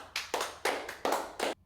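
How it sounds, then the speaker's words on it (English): A few people clap in a podcast-style room, roughly five distinct bursts of claps in uneven rhythm, fairly close and clear with no talking over them. "D-Lo, clap it up"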